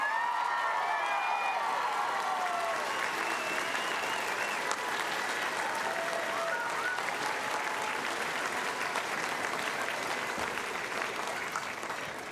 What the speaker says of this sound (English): offer the faculty and staff of North Idaho College assembled here today a round of applause